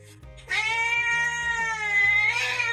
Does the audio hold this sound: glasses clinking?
no